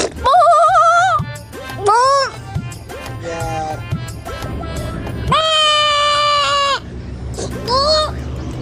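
Goats bleat loudly and close by in a series of long, wavering calls at a rural spot, with people talking faintly underneath.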